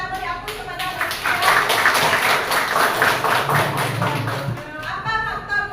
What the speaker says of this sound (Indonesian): Ya, kita beri aplaus kepada mereka